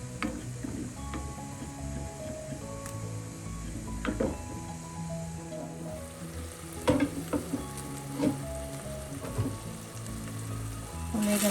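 Onions and spices with a pinch of garam masala fry in a pan for chicken curry, a steady close sizzle with occasional stirring clicks and scrapes throughout.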